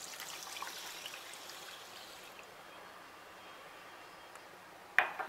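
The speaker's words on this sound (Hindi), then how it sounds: "हमने चावल में पानी डाल दिया है" Water is poured over washed rice in a pan to soak for veg biryani, a steady splashing stream for about two seconds, then a quieter trickle and a brief clink near the end.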